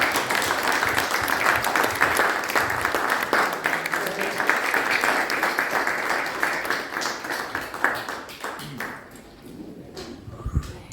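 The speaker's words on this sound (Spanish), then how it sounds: "agradecerles con un fuerte aplauso la valía de nuestros expositores" A Spanish-language event audience breaks into loud, sustained applause for the speakers, dense clapping that holds steady for several seconds before thinning out and tapering off near the end.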